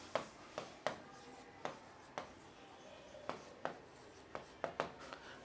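Marker strokes on a board while curly brackets are written, a quiet series of short taps and scrapes in an irregular rhythm, heard close with no talk.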